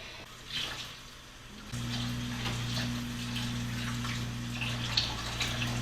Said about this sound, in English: First we got to rinse it off.